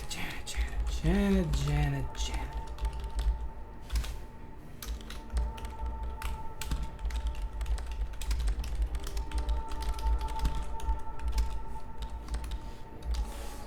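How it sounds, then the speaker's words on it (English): Computer keyboard typing in the mystery typing game Dead Letter Dept., a steady stream of quick, light clicks and taps running throughout, with a voice speaking briefly near the start. "I feel like I should really be typing in that."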